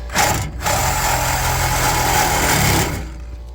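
A Sawzall reciprocating saw cuts through a refrigerant line set, running loud and steady with a buzzing motor for about three seconds after a brief pause, then winding down.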